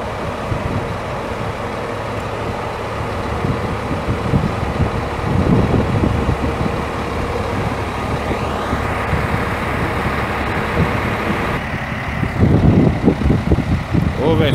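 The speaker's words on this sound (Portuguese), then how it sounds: "Vem só o ronco do motorzão de Scania" A Scania coach engine drones steadily from inside a bus on a long-distance run from Simonésia, Minas Gerais, to Porto Seguro, Bahia. The low rumble holds throughout and swells briefly near the end, with faint talk mixed in.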